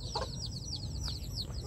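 Young chickens from a bantam and fighting-cock cross, making quick, faint, high chirping clucks in a rapid repeated series, close by over a low background hum.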